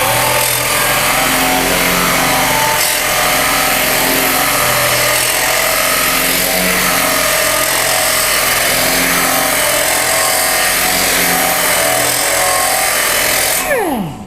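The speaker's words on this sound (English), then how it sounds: "Okay, so that was just a standard grind." Thin sheet metal held in a vise being ground for body work: a loud, steady power-tool grind running continuously for about fourteen seconds, then spinning down abruptly at the end.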